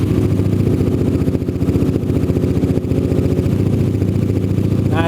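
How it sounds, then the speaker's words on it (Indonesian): A custom cafe racer built from a 250cc X-Max automatic scooter idling up close, a steady low rumbling putter that holds an even pace throughout. "Suara idle dari motor si X-Max Cafe Racer ini."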